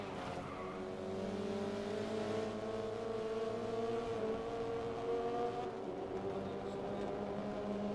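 Race car engine in the racing game Grid 2019, a sustained revving drone with rising and falling pitch as the car accelerates, heard under occasional speech.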